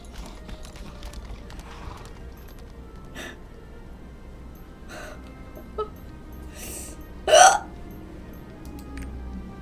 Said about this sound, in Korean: 딸꾹질이에요.